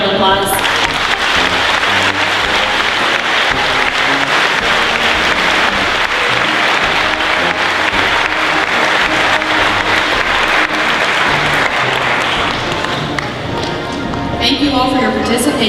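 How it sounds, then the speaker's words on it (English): A loud round of audience applause at a high school Veterans Day program, dense and sustained for the whole stretch, fading slightly near the end with a few voices emerging. "would you just give her one more round of applause?"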